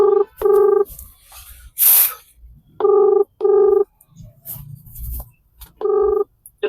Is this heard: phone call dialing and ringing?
yes